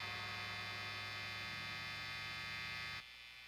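A steady electrical buzz from an electric guitar pickup, a constant low hum with bright overtones that drops to a quieter level near the end.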